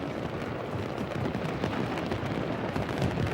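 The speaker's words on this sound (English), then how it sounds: "Meanwhile, the fireworks continue in London." Fireworks burst over London during the millennium celebrations, a dense continuous rumble of distant explosions merging with crowd noise, with no clear single bangs standing out.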